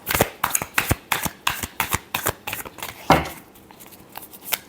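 Tarot cards are shuffled in quick, rhythmic riffling bursts, about a dozen crisp flutters in a row, close and clear with no voices.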